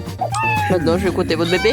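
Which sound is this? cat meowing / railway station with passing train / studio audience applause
cat meowing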